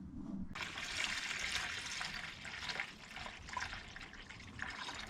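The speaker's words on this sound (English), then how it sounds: "we're gonna start pouring it in the system, get it all filled up and then bleed it." Coolant pours steadily into the cooling system of a Mercedes ML W163, a continuous close gurgling, splashing flow that starts abruptly and runs without pause.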